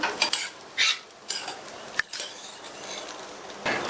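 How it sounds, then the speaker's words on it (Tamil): Spoon stirring aval upma with chopped coriander leaves in a pan, making close, irregular scraping sweeps with a sharp metallic clink partway through, with no talk. "அடுத்து இதுல பொடியா கட் பண்ண கொத்தமல்லி இலைகளை சேர்த்துட்டு நல்லா ஒரு தடவை மிக்ஸ் பண்ணி விட்டுட்டு ஸ்டவ் ஆஃப் பண்ணிடலாம்."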